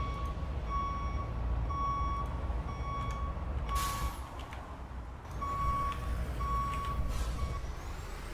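Evenly spaced electronic reversing beeps from a fire truck in the EmergeNYC game, steady and clear over a low engine rumble, with a brief hiss burst midway.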